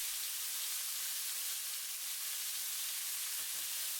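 Broccoli stir-frying in a hot pan gives a steady, close, hissing sizzle that holds evenly throughout with no talk.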